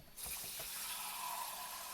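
Water pours into a pot inside a motorhome kitchen, beginning abruptly as a steady, soft hissing splash that continues unbroken for under two seconds, quiet and close with no talk.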